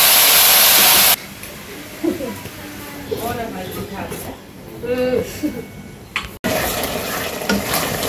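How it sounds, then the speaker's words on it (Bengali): Vegetables including potatoes and cauliflower stir-fry in a pan, giving a moderate sizzle with soft stirring scrapes as someone speaks over them; a loud burst of noise opens the scene before the cooking sounds settle in. "তখন সবজিগুলো ভালো করে কষিয়ে নেই।"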